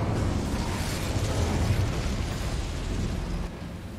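An Incendio fire spell cast in Hogwarts Legacy gives a loud, sustained fiery whoosh and roar that fills the clip, easing slightly near the end, with no talking.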